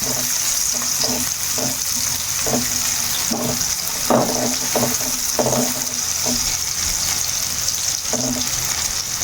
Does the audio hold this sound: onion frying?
yes